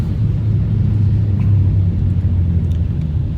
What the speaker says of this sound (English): I got somebody driving up on the sidewalk next to me here